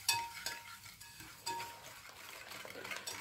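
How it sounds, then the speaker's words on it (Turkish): Eggs and sugar being whisked by hand for a cornmeal cake: quiet, continuous scraping and tapping strokes against a bowl, with small rhythmic clinks, low in level and with no talk. "1 su bardağı şekerimizi ekleyerek güzel bir çırpalım şeker ve yumurtalarımızı."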